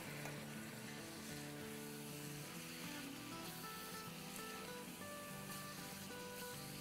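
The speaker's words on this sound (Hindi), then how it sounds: "अब हम इसमें डाल देते हैं अपने छोटे छोटे पीसेस किए हुए चिकन के।" Bite-size pieces of chicken breast, about 1.5 pounds, sizzle and fry in a pan over medium-high heat, a steady dense crackle running without pause and no talking.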